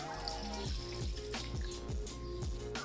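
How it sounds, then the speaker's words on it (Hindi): About a glass of milk is poured into a kadai that sits off the stove, making a steady, close splashing pour with small gurgles that lasts the whole stretch. "इसके अंदर मैं 1 गिलास के जितना दूध डाल दूंगी"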